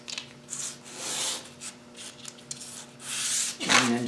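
Miniature wood piece with a burred edge rubbed back and forth to clean off fuzzies, a few soft close scraping strokes with short pauses between them.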